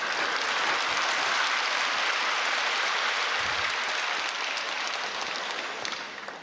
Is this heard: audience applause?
yes